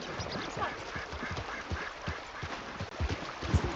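A duck quacks repeatedly in an irregular rhythm in the open world of Red Dead Redemption 2, set near water with a soft, noisy ambient bed under the calls.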